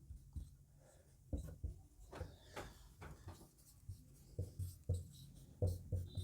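Writing on a board during a chemistry lecture, a quiet series of irregular scratchy strokes and light taps, close and unaccompanied by talk.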